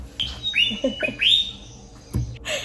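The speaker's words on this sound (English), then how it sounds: "I would hear a birdie." A small bird chirps in quick, bright rising tweets, several calls in a row at moderate distance against a quiet background.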